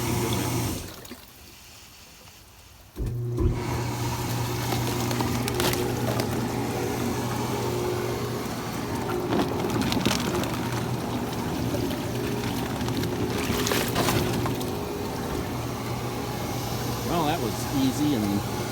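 A Balboa VS300 hot tub with its jets switched on kicks in suddenly after a brief lull, giving a steady, close rush of churning water over a low motor hum that continues without a break.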